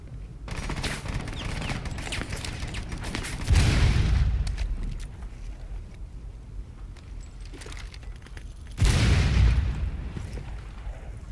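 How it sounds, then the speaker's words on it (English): Two loud grenade blasts in Rainbow Six Siege, each a deep booming burst, set against steady gunfire and crackling shots throughout the round. "Grenade!"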